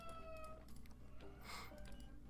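A cartoon cat meows a few times in the point-and-click adventure game Deponia Doomsday, its voice clear over a low steady game background.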